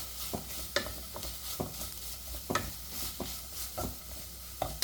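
Black nightshade leaf thoran dries in an open pan, a steady soft sizzle broken by regular scraping strokes of a spatula, close and alone with no voices.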